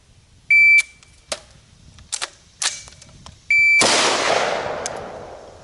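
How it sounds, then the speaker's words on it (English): A shot timer gives a loud electronic beep, followed by handling clicks and a rifle malfunction drill, then another beep and a single close, loud rifle shot with a long decaying echo across an outdoor range. "clear rifle, fire one shot."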